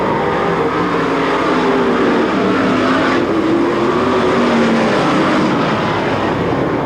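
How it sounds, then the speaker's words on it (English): Race car engines roar at a Watsonville speedway race, a loud, dense continuous drone of several cars circulating, with engine notes rising and falling across the pack. "the rear end let go on Brian Solomon's car, and he coasts back to the pit area"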